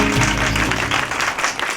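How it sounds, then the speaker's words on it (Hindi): An audience at a Dussehra celebration breaks into a short burst of close, dense applause that fades slightly toward the end. "जोर से तालियां।"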